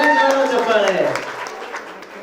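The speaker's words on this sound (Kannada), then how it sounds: "ಸೂಪರ್, ಚಪ್ಪಾಳೆ." An audience at an award ceremony and tenth-anniversary event applauds, a short burst of clapping that fades out under a loud voice speaking over it.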